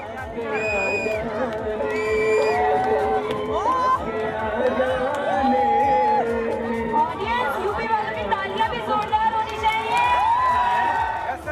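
A large crowd that has gathered to see the actor Govinda fills the air with steady chatter and shouts, with film music playing loudly over the noise throughout.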